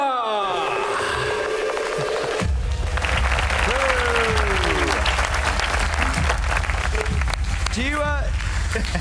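An audience claps to welcome Sam Thompson and Ben Hacker onto a conference stage, with dense steady applause building after a brief quieter start, while whooping and cheering voices rise over it.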